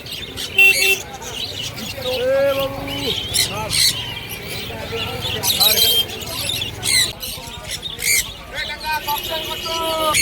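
Hand-tamed sun conure parrots and other birds call at the Birnagar bird market, giving sharp, repeated squawks and chirps close by, mixed with people talking and general market chatter.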